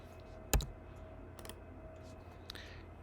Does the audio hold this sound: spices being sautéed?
no